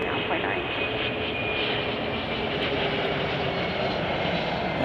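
An airplane engine roars steadily at Chicago O'Hare airport, a loud continuous drone with faint tonal whine and no breaks.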